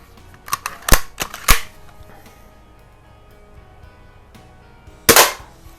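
A vintage Daisy Model 25 BB gun fires in sharp close snaps: a quick cluster of four or five cracks, a pause, then one more loud shot.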